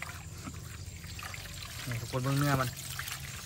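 Tap water pours and splashes while fish is washed under it, a steady running stream that swells briefly near the end, with someone speaking over it.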